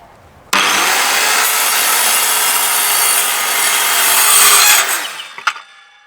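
An Evolution R185CCSL circular saw cuts through wood in one loud, continuous rasping pass lasting several seconds, heard up close, then winds down with a few short clatters and no talk.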